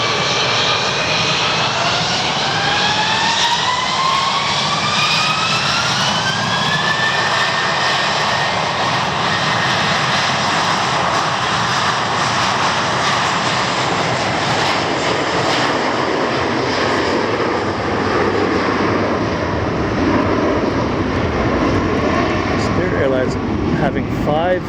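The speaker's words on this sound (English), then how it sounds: "power up those IAE V2533 motors and let's get the f*** out of Fort Lauderdale" Spirit Airlines Airbus A321 with IAE V2533 engines spooling up and taking off from Fort Lauderdale, a loud, steady jet roar with rising whine that swells then recedes into the distance.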